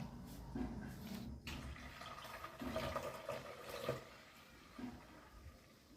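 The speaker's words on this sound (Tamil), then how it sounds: "இப்போ கூடுதலாக இதில் இன்னும் ஒரு 2 லிட்டர் தண்ணி நம்ம சேர்த்துக்கலாம்." Two litres of water pour into a detergent mixture with a steady splashing, gurgling flow. The sound swells and fades in a few surges, fairly close and fairly quiet, with no talking.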